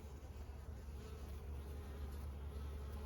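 A honeybee drone buzzing close around the face while a hive is being inspected, a steady, faint insect hum under broadband noise, no talk.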